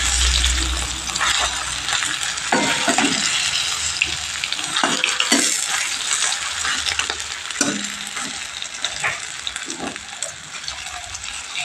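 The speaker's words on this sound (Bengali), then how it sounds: "এই বড়াগুলোকেও আমি লাল লাল করে ভেজে নেবো" Lentil fritters fry in a kadai of oil with a dense, steady sizzle, broken by scrapes and knocks as they are turned and stirred, close up with no talking.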